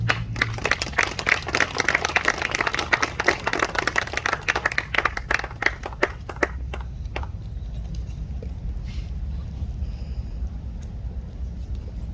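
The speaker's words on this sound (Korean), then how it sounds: "박수로 맞이해 주십시오." A crowd applauds at a memorial ceremony at the Seoul National Cemetery, dense and lively for several seconds, then thins to a few scattered claps and stops, leaving a low room rumble.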